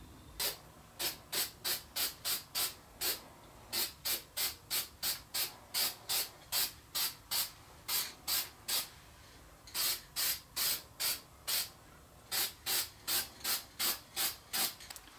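Spray can bursts coating an oil lamp in flat black paint: a long series of short, rhythmic hisses in quick regular clusters with brief pauses between groups, close and clear with no talk.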